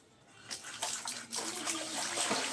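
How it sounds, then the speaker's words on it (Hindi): Water gushes steadily from a tap after a brief quiet start, a loud continuous splashing stream close by. "थोड़ा पानी निकालो"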